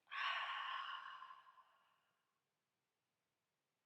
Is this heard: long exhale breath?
yes